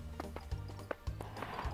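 Galloping hooves of a horse in the Horse Simulator VR video game, with rapid rhythmic clip-clop beats and a brief whinny, fairly close and moderately loud.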